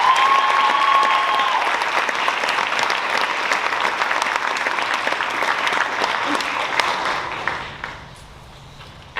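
Loud, steady audience applause at a school district evening celebration honoring an achievement, continuous clapping that fades out toward the end, with a faint tone at the start.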